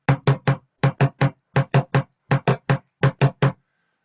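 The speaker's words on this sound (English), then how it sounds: "And with the spoons, it's still a deep sound." Spoons drummed in groups of three quick strikes, repeated five times, each hit a deep, thudding taiko-like knock close up, ending in silence.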